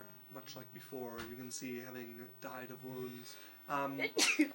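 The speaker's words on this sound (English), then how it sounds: "Are you telling me to stop sneezing?" A single sharp sneeze bursts out loudly at the end, right after a stretch of steady talking from a man.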